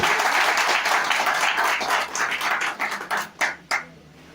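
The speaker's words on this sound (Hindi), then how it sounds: "तो हम चाहेंगे इसके लिए जोरदार ताली मारिए" Dense applause from a crowd, steady and loud, then thinning into a few scattered final claps.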